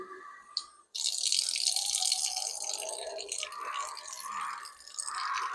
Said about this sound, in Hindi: पानी लेने के बाद ऐसे मुंह धोना है